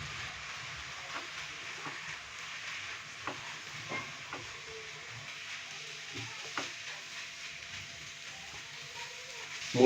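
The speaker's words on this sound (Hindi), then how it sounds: "अभी मैं इसके अंदर मूली डालूंगा। अच्छे से मिक्स करेंगे।" Radish being stirred into fried spice masala in a pan, a steady soft sizzle with scattered scraping stir strokes throughout, fairly quiet, with a louder clatter at the very end.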